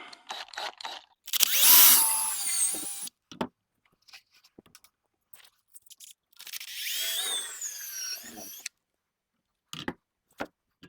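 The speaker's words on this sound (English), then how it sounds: "I'm going to pre-drill this hole here." A power drill pre-drills a hole in a wall panel, whirring in two bursts of a couple of seconds each, close by, with light handling clatter and taps between and after.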